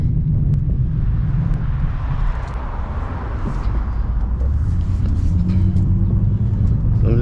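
A 2004 BMW 325i E46 with oil leak repairs and a replaced transmission is driven around the block, its engine a steady, loud low rumble with road noise throughout and a rising tone near the end.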